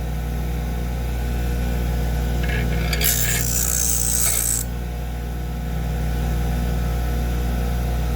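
A CO2 car axle is ground down on a running grinder. A steady low motor hum continues throughout, broken by a short, bright, high grinding screech as the metal touches the wheel.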